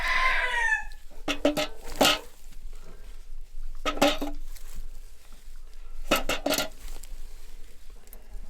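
Rhode Island Red chickens on a winter farm cluck in short bursts, with a rooster crowing near the start and loud, close clucking calls repeating at intervals throughout.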